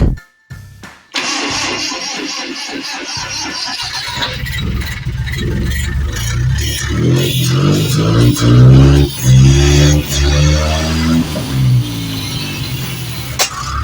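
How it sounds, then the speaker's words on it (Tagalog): An owner-type jeep engine, long unused and freshly rewired, cranks with a couple of short bursts, catches, and settles into a loud, rumbling idle with occasional revving swells and rattles. "So na-enjoy akong pakinggan yung tunog ng makina na to."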